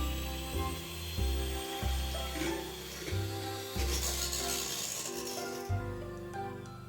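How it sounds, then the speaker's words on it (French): An electric hand mixer with beaters whips 400 g of chilled liquid cream in a bowl, a steady whirring drone with rattling beater clatter that shifts in pitch as the bowl is worked, close up and without voices. "Je vais monter une crème fouettée avec les 400 g de crème liquide à l'aide du batteur électrique"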